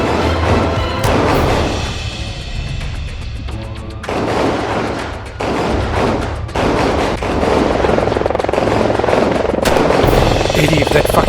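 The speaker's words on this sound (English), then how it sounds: "if that fucking chopper gets any closer" Police helicopter in GTA 5 Online: rotor chop throbs throughout beneath loud crashes, bangs and gunfire, with voices talking over the action.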